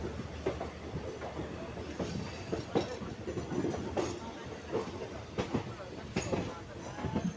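The 15968 Rangiya Express pulls into Guwahati station with a steady, close rolling rumble and recurring wheel clatter and clicks over the rails, and faint voices mingle in the background.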